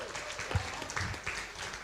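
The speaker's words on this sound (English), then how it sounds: "Everyone give Keith a round of applause." Brief burst of audience applause at a live magic show for a volunteer, a short, somewhat muffled patter of clapping with a low thump partway through.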